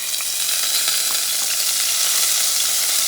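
Sofrito fries in a hot pan, a loud, continuous, bright sizzle with faint crackles and light stirring, close up and without talk.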